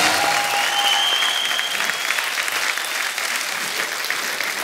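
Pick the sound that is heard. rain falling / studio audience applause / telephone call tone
studio audience applause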